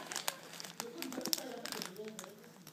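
Plastic wrapping on a squishy toy package from Too Too Kawaii crinkles and crackles as it is cut open, with close, busy rustling and snipping under excited talking.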